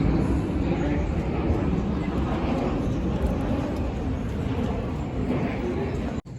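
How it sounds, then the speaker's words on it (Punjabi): An airplane passes overhead near a park in Lisbon, a loud steady broadband roar sustained throughout with a brief dropout near the end, no clear speech. "ਉਹ ਜਹਾਜ਼ ਆ ਗਿਆ"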